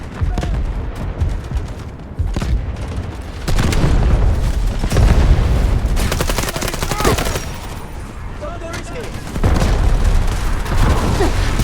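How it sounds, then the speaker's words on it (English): Artillery barrage explosions in the Delta Force video game: repeated loud booms and rumbling blasts, with dense gunfire-like crackle, sustained throughout with heavy low-end thuds and surges around the middle and end. "Artillery barrage ready."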